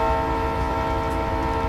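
A big American freight train on the railway sounds its horn, a loud sustained tone held steady over the low rumble of the passing cars.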